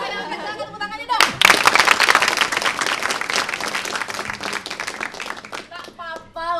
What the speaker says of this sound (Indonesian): Oke, tepuk tangannya dong.